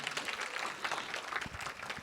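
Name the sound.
audience applause at live Gujarati comedy show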